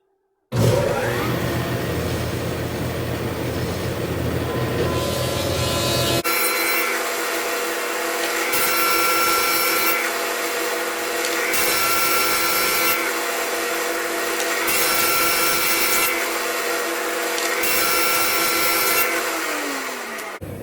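A thickness planer feeds a wooden board through to bring it down to 3/4 inch for a lift-off lid box, making a loud, continuous machine roar that rises and falls slightly with each pass, heard alone and close.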